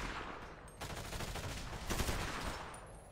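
Gunfire in the Grand Theft Auto V video game rattles on as a dense, continuous volley of rapid shots, loud and close, swelling near the middle, with no talking.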